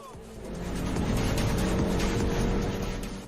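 A Jaguar F-Type V6 sports car racing, its engine roar building in a loud close sweep that swells, holds and eases slightly as the car passes, with faint talk in the background.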